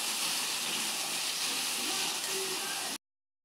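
Turmeric, salt and spices sautéing in a pan give a steady, close hiss of sizzling that runs unbroken for about three seconds, then cuts off abruptly.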